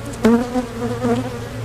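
Honeybees buzzing around an opened hive during a hive split, a close, steady drone with a louder buzzing pass near the start and another swell about a second later.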